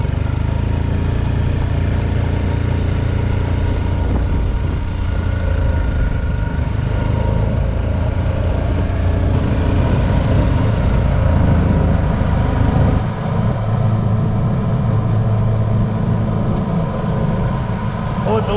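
Junkyard golf cart with a new clutch and governor on a top speed run, its small engine droning loud and steady close by, with rattling and clanking throughout and a drop in pitch and roar near the end.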